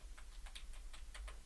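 Computer keyboard keys are tapped while testing a Debian 12 Cinnamon desktop, about eight light, irregular clicks that are faint over a low background hum, with no speech.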